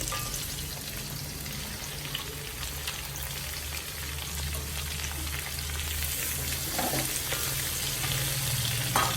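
Five onions sliced into rings fry in a pan for a tomato fry, giving a steady, dense, close sizzle that continues throughout and grows slightly louder and brighter toward the end.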